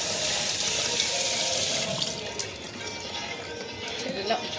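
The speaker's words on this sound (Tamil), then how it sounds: "அந்த கை கழுவு. ஹேண்ட் வாஷ் பண்ணு." A tap runs steadily into a sink while hands are washed, first a loud even gush and then a softer splashing flow as the hands break the stream.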